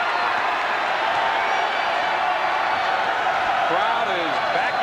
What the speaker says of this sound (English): Crowd is back into it at Reynolds Coliseum